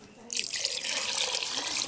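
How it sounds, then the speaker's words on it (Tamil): Water from rinsing a stone grinding slab pours into a pot of country chicken curry cooking in a village kitchen, a steady broad splashing pour lasting nearly two seconds after a brief quiet start, with faint voices underneath. "அரைச்சி அம்மி கழுவுன தண்ணி, அந்த தண்ணியை இப்போ அதில் ஊற்றி சேர்த்துக்கிறேன்."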